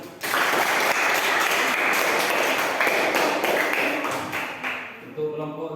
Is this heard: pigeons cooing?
no